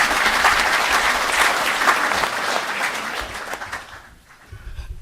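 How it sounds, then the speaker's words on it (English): Audience applause at the Zimbabwe-South Africa Business Forum, a full, sustained round of clapping from a large room that tapers off near the end. "Can we give them another round of applause?"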